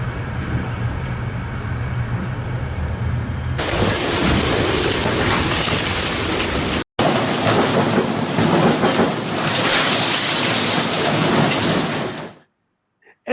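Typhoon in Hong Kong with heavy rain and wind: a loud, dense rush of broadband noise that swells abruptly a few seconds in, cuts out briefly, then carries on steadily before ending in silence.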